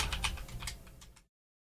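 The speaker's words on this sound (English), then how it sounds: "Typing the names right now." Quick run of keystrokes on a computer keyboard, close and crisp, clattering for about a second before stopping abruptly into silence.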